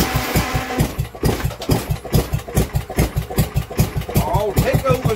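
Old Kohler engine, once left in a hedge for years, cranking and firing with a fast rhythmic chug and knock, loud and close, while a person talks over it.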